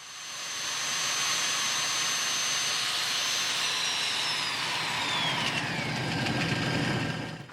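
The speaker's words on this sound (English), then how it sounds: "I power sand the outside of the bowl up to about 600 grit" A power sander works the outside of a small curly maple bowl on a lathe, a steady broadband whir and hiss with a high tone that slides downward, loud and continuous throughout, with no talking.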